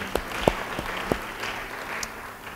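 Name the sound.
congregation applauding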